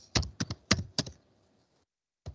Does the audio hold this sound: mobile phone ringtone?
no